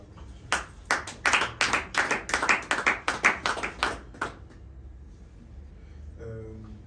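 A church congregation claps in praise of Jesus, a run of about a dozen loud, rhythmic claps that stops abruptly, leaving a quiet room.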